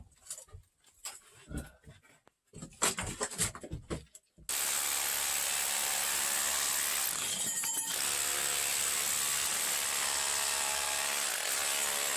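Chiseling rock from a ladder inside an underground gold mine, with scattered irregular strikes at first, then a sustained loud grinding roar that fills the rest of the clip.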